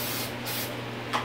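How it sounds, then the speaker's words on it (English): Spray mount adhesive sprayed from a can onto a T-shirt printing platform, short close bursts of hissing spray over a steady low hum, with a brief louder puff at the end. "I'm gonna start by taking some spray mount,"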